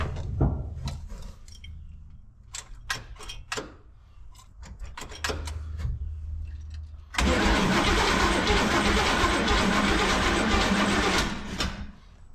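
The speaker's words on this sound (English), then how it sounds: "Probably have to crank for a moment to get fuel up to the carb." A 1968 Chevrolet G20 van engine that hasn't run in a while cranks with repeated starter bursts and clunks, then catches at about seven seconds into a loud, steady, rough running roar that holds until the end.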